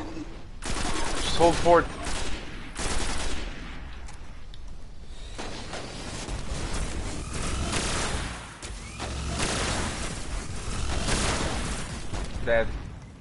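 Rapid gunfire from a weapon in the Destiny shooter game, dense loud bursts repeating across the stretch with explosions mixed in, while someone talks over the shooting.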